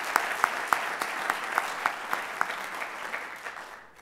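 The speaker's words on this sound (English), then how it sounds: "Let's give her a round of applause." An evening event audience gives a warm round of applause, dense clapping with sharp individual claps standing out, steady at first and then slowly fading away.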